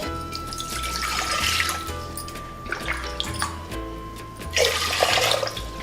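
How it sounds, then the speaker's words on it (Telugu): Water splashes and pours into a pot on a stove for cooking rice, coming in a few close gushing bursts against a steady low background hum. "ముందుగా స్టవ్ వెలిగించుకొని ఎసరు వేసుకుందాం"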